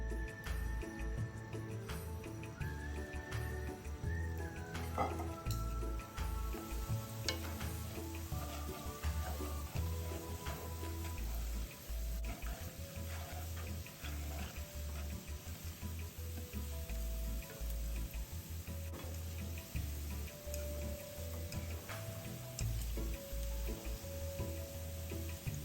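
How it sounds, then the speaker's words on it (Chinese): Sweet potato balls deep-frying in oil, a steady close hiss and bubbling sizzle with scattered pops and occasional stirring clinks throughout. "相同的步骤，将剩余的番薯球油炸至完成。"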